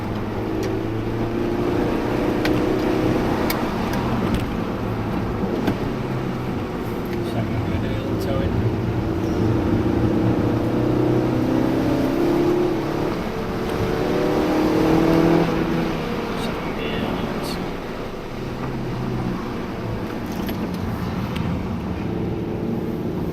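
A Suzuki Swift Sport drives up a winding hill-climb road, its engine note rising and falling as it revs through the bends, heard from inside the car under a constant road rumble with a person talking over it.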